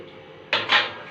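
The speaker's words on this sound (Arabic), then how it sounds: "طبعا الصينيه بتاعتنا هغطي بقى" A baking tray gets covered in a home kitchen with one short, close clatter and rustle that lasts under a second and then fades.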